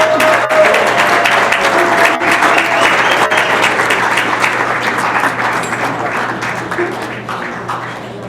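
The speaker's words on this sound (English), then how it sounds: "I need a warm round of applause for this man." A warm round of audience applause greets a speaker as he is introduced on stage, loud and full at first, then gradually thinning and fading over about eight seconds.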